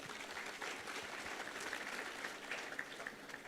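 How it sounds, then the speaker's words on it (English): Audience applause at an education and leadership congress, a steady dense clapping of a large crowd that holds without pause for several seconds, with no talk over it. "Let's clap for him."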